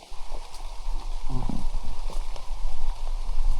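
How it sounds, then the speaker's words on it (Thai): Heavy rain pours down steadily during avocado picking in an orchard, a dense, continuous hiss with scattered louder drops close by. "ฝนเทลงมาเทว่า"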